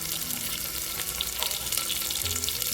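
Steady sizzling of garlic and curry leaves sautéing in hot oil, with a faint watery hiss and occasional clinks, continuous and close throughout.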